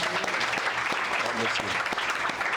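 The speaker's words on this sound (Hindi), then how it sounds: "क्या मैं और आप ताली बजाना चाहेंगे इन बच्चों के लिए?" Congregation applauding young children after they sang at a church service, steady moderate clapping from a crowd that fills the whole moment with no break.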